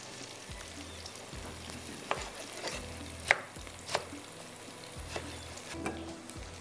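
Meat browns in a pan for a beetroot mutton curry, a soft steady sizzle broken by several sharp spoon clinks and scrapes against the pot.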